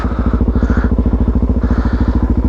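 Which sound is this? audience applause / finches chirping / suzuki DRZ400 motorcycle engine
suzuki DRZ400 motorcycle engine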